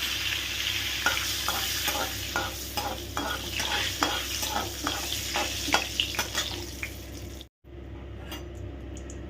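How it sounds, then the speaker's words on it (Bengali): Dried red chillies fry in melted butter with a continuous close sizzle and rhythmic spoon-stirring scrapes. The sizzle cuts out briefly near the end and then resumes. "বাটারটা যখন মেল্ট হয়ে যাবে একদম ফুল, তখন এই শুকনো লঙ্কাটা ভেজে তুলে রাখবো"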